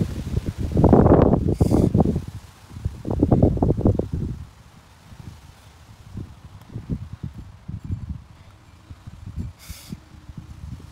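Gusts of wind buffet the microphone in loud rumbling bursts, then settle into softer, irregular low blustering.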